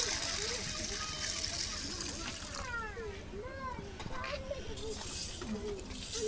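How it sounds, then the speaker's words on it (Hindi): Moong seeds washed by hand in plain water, continuous sloshing and splashing close by, with people talking over the water throughout. "एकरा धो दे ले साफ से"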